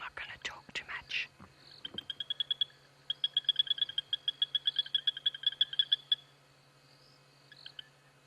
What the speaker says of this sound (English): but this is a Tandy's frog, a Tandy sand frog.